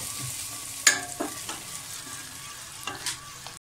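Light-brown fried cashews tipped into payasam, a soft close sizzle with a few clinks and scrapes of stirring scattered through a quiet pan.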